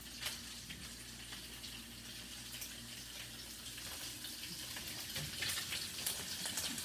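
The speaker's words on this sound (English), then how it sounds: "Bring my wok back over here and brown my sausage." Sausage browning in a wok for a vegetable stir fry, giving a steady, quiet sizzle with faint crackles and occasional spoon scrapes, with no talking.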